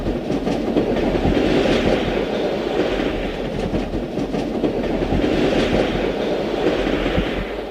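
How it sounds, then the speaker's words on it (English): Pennsylvania Railroad train number 31, the Spirit of St. Louis, rolls past loud and close, its wheels and cars making a continuous clattering rumble throughout. "it did provide a landmark to watch the passage of train number 31, the Spirit of St."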